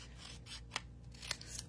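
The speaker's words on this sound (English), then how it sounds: "And then you're just going to grab your scissors. And what you would do is just cut up the middle." Scissors snip up the middle of a punched paper piece in two short, crisp cuts, faint and close, over a soft hum in a quiet room.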